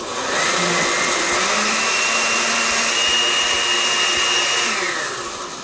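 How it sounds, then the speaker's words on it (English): A blender purees a watermelon margarita with sugar, lime juice and triple sec under the lid, giving one steady, loud whir that lasts about five seconds before it winds down. The sound is alone, with no talking. "Now I'm going to puree this."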